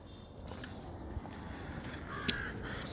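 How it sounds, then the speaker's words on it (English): Crows caw outdoors in three short, separate calls spread over a few seconds, standing out from a steady low background hiss. "Shut up, birds."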